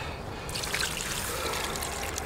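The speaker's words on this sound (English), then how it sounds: "Oh, let's get a bit more water on this now." Water poured over a freshly caught common carp on a river bank, a steady close trickle and splash that starts abruptly after half a second and runs on without speech.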